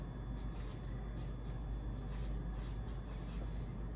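A marker squeaks and scratches across a writing surface in quick, rhythmic strokes, close and fairly quiet over a low background hum, with no voices.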